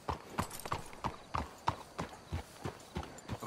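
Horse hooves clip-clop at a steady walking rhythm in Red Dead Redemption 2, about ten even, close hoof strikes on a hard path with no talk over them.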